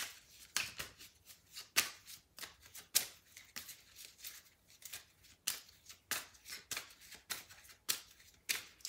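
A tarot deck being cut and shuffled, with a steady run of soft, crisp card riffles and slaps close by, each short burst following the last with no talking.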